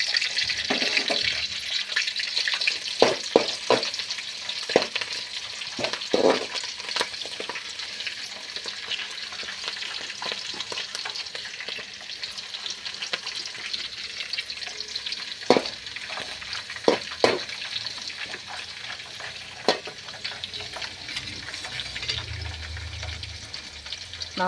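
Curry leaves and green chillies fry in oil for rava upma, a steady close sizzle running throughout with occasional crackles and spoon scrapes against the pan, with no talking.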